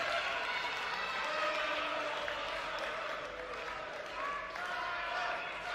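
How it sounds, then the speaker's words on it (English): Crowd at a Hammerlock Pure Wrestling show in St. Thomas applauding and cheering on a Saturday night, a steady dense roar of clapping and voices filling the venue throughout. "the crowd in St. Thomas here now showing their appreciation for the Saturday night delights"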